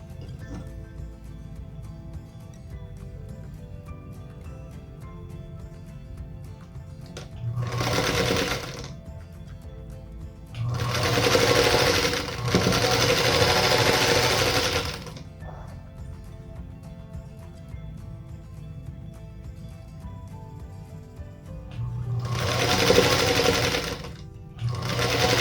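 A sewing machine chain pieces quilt blocks in several bursts of rapid stitching, short runs and longer stretches separated by quiet pauses, close and clear.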